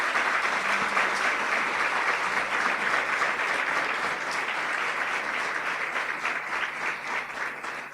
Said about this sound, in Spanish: Y damos un aplauso al Señor porque la deuda está pagada.